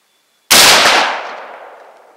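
One sharp, loud rifle shot fires a round in Swedish brass cartridge cases, going off instantly with no hang fire and trailing into a long fading ring.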